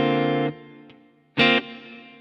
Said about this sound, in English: And here's the reverb.